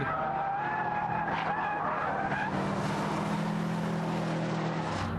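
A Subaru Impreza WRX STi slides at speed, its tyres scrubbing and squealing over a continuous engine roar for about five seconds, loud and steady with no talk.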